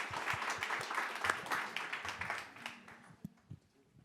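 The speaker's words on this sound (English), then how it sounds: "Big round of applause for our panel" Workshop audience applauding a digital marketing panel: dense clapping that swells and then thins out to a few scattered claps at the end.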